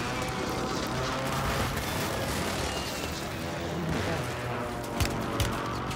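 Dense, continuous gunfire and booming explosions in Call of Duty Warzone on Urzikstan, a loud sustained din with a couple of sharper nearby shots near the end, and no speech over it.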